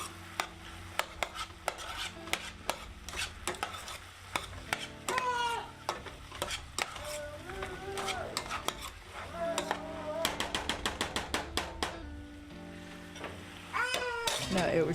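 Spoon stirring tomato paste through a pan of ground venison chili mac, with repeated scraping and clinking strokes and some sizzling, close and moderately loud, while a voice and bird-like chirps sound intermittently.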